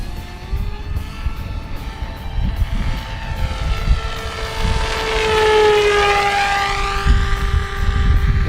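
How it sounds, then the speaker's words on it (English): A Freewing Seagull 1400mm RC airplane flies an inverted pass down a runway, its whining motor tone swelling as it nears and dropping in pitch as it goes by, with steady wind noise underneath. "I'll turn it back around here for an inverted pass down the runway."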